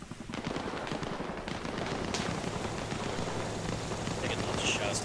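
Gunfire in Arma Reforger during a 75th Rangers training exercise: a dense run of sharp shots and bursts crackles over a low rumble, with a steady hum underneath and a loud report near the middle.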